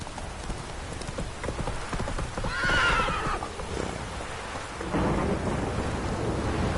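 A horse in The Witcher 3 gallops and lets out a loud whinny midway, with hooves and rumbling ambience continuing steadily around it, no voices.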